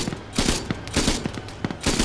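Gunfire in the video game ArmA 3 comes in loud, rapid bursts of automatic shots separated by short gaps, close and punchy, with no talking.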